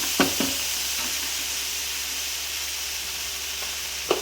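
Prawn masala with curd fries in a pan, a steady close hiss of sizzling oil with a few light utensil taps at the start and end, continuous and without talk.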